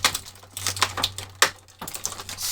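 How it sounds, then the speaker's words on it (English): Scotch tape handled at close range, a quick string of crisp ticking, crackling and tearing sounds with a steady low hum underneath. "Scotch tape. My enemy."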